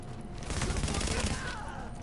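Rapid LVOA rifle fire in The Division, a dense burst of shots rolling together for about two seconds, loud and close with a game soundscape behind it.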